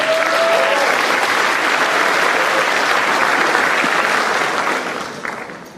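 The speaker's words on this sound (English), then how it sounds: "please hold your applause until all the names in each category has been announced" Steady, dense applause from a large audience at a high school senior excellence awards ceremony, holding loud and even for several seconds before tapering off at the end.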